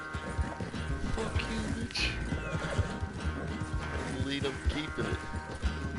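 Hoofbeats of a galloping horse in the game Red Dead Redemption 2 drum steadily and close, joined by whinnies and animal bleats, while someone speaks over the ride.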